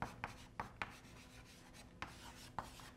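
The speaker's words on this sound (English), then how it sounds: "I'll write that one down" A pen writes on paper, faint and close, in a series of short scratchy strokes with small taps between them and no talking.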